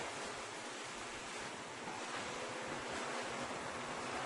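Spinach and shrimp frying over high heat for Guyanese fried spinach, a steady, loud broadband sizzle that stays even throughout with no talking.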